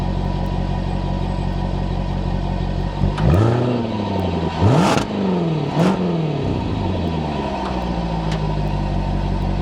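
A Jaguar F-Type R AWD supercharged V8 idles with a deep exhaust rumble, then revs sharply twice in quick succession before settling back to a steady idle, loud and close.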